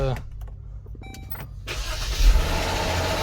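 A 2012 Jeep Grand Cherokee 4x4 starts up after a driver-side motor mount replacement. There is a brief cranking whir, then the engine catches and settles into a steady, close idle.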